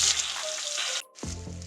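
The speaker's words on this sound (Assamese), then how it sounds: "ইয়াত মই বিলাহী আদা নহৰু জলকীয়া গোটেই পেষ্টখিনি তেলত দি লৈছো" A paste of tomato, ginger, garlic and chili sizzles and fries in hot oil for a fish masala curry, a close, steady crackling hiss. A brief dip is followed by a fresh, louder burst of sizzling.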